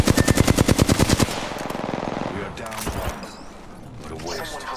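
Rapid automatic gunfire from a video game shooter, a loud, evenly spaced burst lasting about a second, then fading into game effects and mixed noise.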